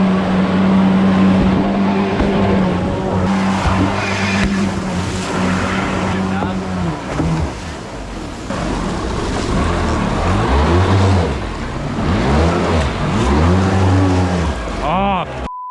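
A jet ski engine runs loud and close on the water, holding a steady throbbing drone, then revving up and down in repeated surges with shifting pitch, while people talk over it.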